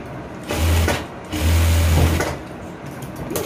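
A sewing machine running a double stitch on a blouse, heard as two close, loud bursts of steady mechanical whirring with a low motor hum and a short pause between them.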